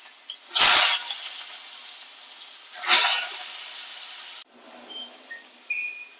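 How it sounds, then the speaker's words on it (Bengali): Kebabs drop into hot oil in a wok and sizzle in two loud hissing bursts, each fading into a softer steady fry before the sound cuts to a quieter background. "তেল গরম হয়ে গেছে কাবাবগুলো দিয়ে দেবো"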